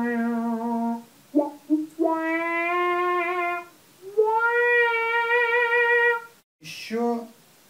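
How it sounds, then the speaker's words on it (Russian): Moog theremin played through a VOX VT20+ amp with a wah-wah effect: sustained, gliding tones that swell and sweep in timbre, in several phrases with short breaks, close and moderately loud. "первый звук, который я хочу вам продемонстрировать, это интересный вау-вау"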